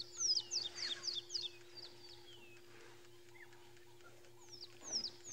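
Bird calls on a morning at a safari park: a series of sharp, rising and falling chirps and whistles, loud early then fading, returning near the end over a steady low hum.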